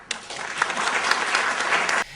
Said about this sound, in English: It gets a round of applause.